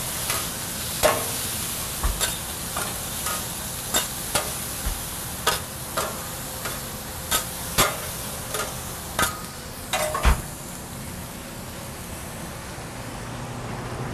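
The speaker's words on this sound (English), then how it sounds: "Flash fry the tofu for about 2 or 3 minutes. Stir up these veggies a little bit." Tofu and vegetables stir-fry in a hot pan in a restaurant kitchen, a steady sizzle under regular scraping and clicking of a utensil against the pan every second or so.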